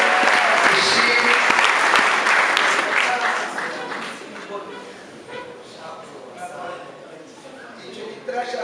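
An audience at a church choir's album semi-launch claps loudly in a dense round of applause that gradually fades away, leaving only faint crowd noise.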